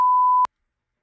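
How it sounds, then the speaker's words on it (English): A single loud, pure censor beep runs for about half a second and then cuts off sharply into silence. "throwing a delayed beep"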